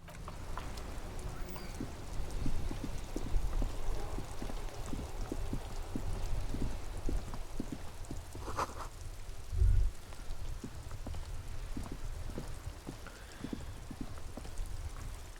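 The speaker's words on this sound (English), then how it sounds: "This rain will not let up anytime soon." Rain in the game Disco Elysium falls steadily, a constant pattering over the whole stretch with scattered heavier drops and one brief thump partway through.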